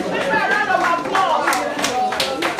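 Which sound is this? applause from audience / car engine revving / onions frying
applause from audience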